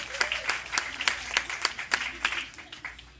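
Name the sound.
audience clapping for a newlywed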